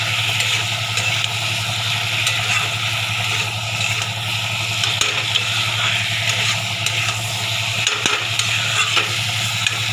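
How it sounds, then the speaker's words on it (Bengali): Ridge gourd and potato stir-fried with spices in a pan, a continuous dense sizzle with scraping stirs and occasional clinks of the spatula, close and steady throughout without talking. "এরকম ভালো করে কষিয়ে নেব।"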